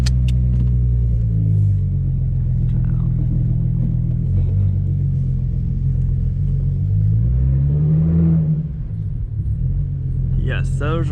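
A car drives along the road, heard from inside as a steady, loud low rumble of engine and tires that swells slightly around the middle, with a brief higher squeak near the end.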